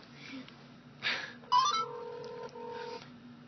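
Telephone keypad dialing tones while placing a call, a few short distinct beeps followed by longer steady tones, clear and close against a faint background hum.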